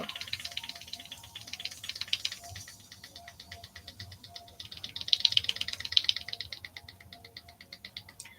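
Rapid, light rattling ticks from a pottery wheel bat wet with clay moisture repeat quickly and unevenly, like something tapping against a spinning surface, faint and close over a low hum.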